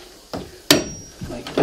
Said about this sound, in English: I'll loosen this seam up here with the chisel.